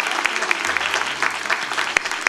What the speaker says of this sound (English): That you can give him a clap of praise?